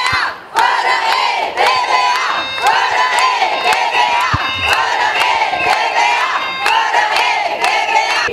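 Protesters outside a public finance tax office in Timișoara, Romania, shout in a dense, loud crowd din with vuvuzela-like horn tones, punctuated by sharp bangs and whistles throughout.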